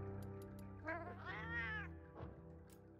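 A cartoon cat character voice from the Monster Hunter video game lets out a drawn-out, rising meow, followed by a shorter call, over a steady hum of game background sound.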